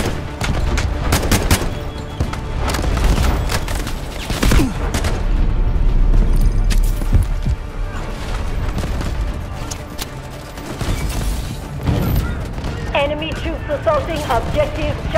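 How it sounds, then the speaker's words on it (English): Incoming artillery and sustained gunfire in the military shooter Delta Force Hawk Ops: dense, loud bursts of shots and heavy booms roll continuously through a chaotic battle, with voices calling out over the din. "Incoming artillery."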